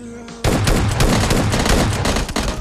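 Loud rapid gunfire from a first-person video game shooter, a dense burst of shots starting abruptly after a brief quiet moment and continuing steadily to the end.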